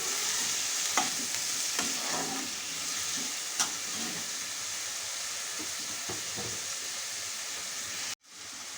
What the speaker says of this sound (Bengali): এই টমেটোগুলোকে আমি অনেক ভালো করে কষিয়ে নিব তেলের মধ্যেই